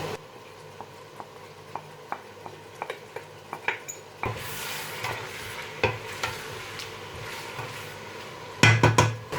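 Spoon stirring yam pottage in a pot after spring onion goes in, with light repeated scraping clicks, then a louder sizzling stretch and a burst of clattering near the end.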